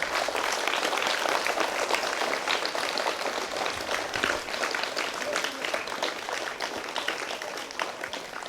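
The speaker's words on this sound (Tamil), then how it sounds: "எல்லோரும் சேர்ந்து நம்மளுடைய ஜோசாலுக்காஸ் டீமுக்கு ஒரு பெரிய கைத்தட்டல் கொடுத்துடலாமா?" An audience at a charity event for a school in Theni claps steadily, a dense continuous wash of applause that holds at moderate volume throughout without tapering off.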